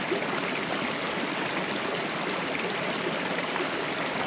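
Mountain stream in Yosemite, a steady close rush of flowing water filling the whole clip with no talk.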